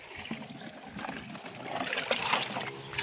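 Water from a farm canal flows and trickles steadily at close range, a continuous broadband rush that swells slightly toward the end, with no talking.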